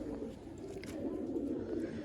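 Teddy pigeons in a pigeon-keeping loft in a village near Sialkot coo softly in continuous low, throaty rolls. The sound is close but quiet, with no clear talk over it.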